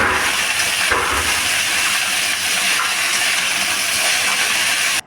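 Bottle gourd stems frying in a pan for a Bengali poppy-seed dish, giving a steady, loud, dense sizzle and hiss that runs without a break and cuts off abruptly at the end.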